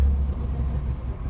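A small two-stroke engine warms up with a clutch that grabs hard, giving a low, steady idling rumble that wavers slightly and stays close and continuous throughout.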